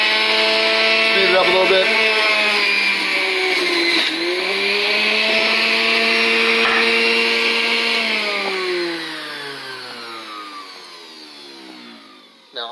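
A juicer grinds through a bunch of celery with a loud, close, whining motor whose pitch shifts as the stalks feed in, then winds down near the end, with a brief spoken remark over it.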